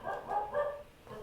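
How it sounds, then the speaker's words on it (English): Dog barking, about three close, fairly loud barks in quick succession followed by a softer fourth, alone without talk. "dog's barking"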